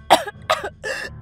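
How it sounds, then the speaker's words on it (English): A woman in an audio drama gasps and coughs in four quick, harsh bursts. The coughs are close and loud, with short breaths between them. "She gasped and coughed"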